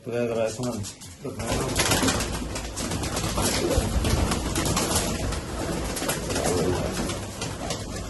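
Teddy pigeons coo in a loft, a dense, continuous rumble of many birds close by with flutters mixed in, while people talk over it at the start and throughout.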